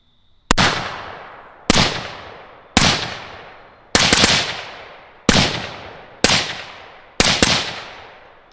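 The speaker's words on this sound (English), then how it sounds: "now we're going to try some nighttime shooting to show you what type of flash this thing has at nighttime" A .223 rifle fitted with an Anechoic Anechox suppressor fires at night. About eight sharp, loud shots ring out at roughly one-second intervals, each followed by a short decaying tail, with no talking.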